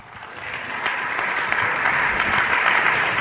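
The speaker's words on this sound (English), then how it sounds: "Give her a round of applause." Loud applause from a sizable audience, the clapping swelling slightly and holding strong to the end.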